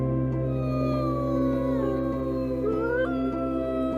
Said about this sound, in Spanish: el aullido del lobo gris